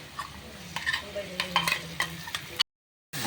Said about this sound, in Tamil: வைத்த பூண்டை வதக்கும் கடாயில் கொட்டவும்.